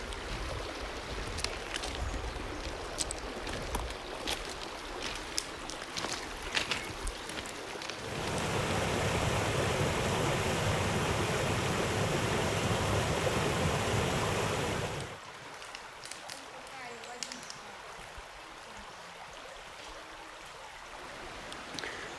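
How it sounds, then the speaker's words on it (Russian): Rushing water of the first of the Polkovnichyi waterfalls, a steady broadband roar that swells loudest in the middle stretch, with softer stream noise before and after. "Вот мы дошли до первого водопада."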